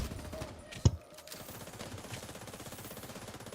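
Gunfire in The Division 2, a sharp single shot followed by a steady rapid burst of automatic fire continuing to the end, with faint game ambience behind.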